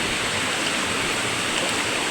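A small creek flows over stones outdoors, giving a steady, broad rushing of water with no breaks, close and fairly loud, and no one speaking.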